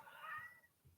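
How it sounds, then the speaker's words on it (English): A house cat gives a single drawn-out meow, close by and fairly quiet, with a faint low hum underneath. "there's my sister's cat"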